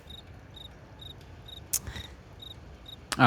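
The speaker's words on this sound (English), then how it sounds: "The crickets. Do you hear it?" Crickets in a city setting chirp in a steady, evenly spaced pulse, faint and continuous against quiet background hiss, with a couple of brief sharp clicks.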